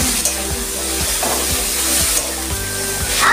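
Yardlong beans tossed into a pan of fried onion and shrimp sizzle loudly and steadily, with regular stirring scrapes and knocks about every quarter second.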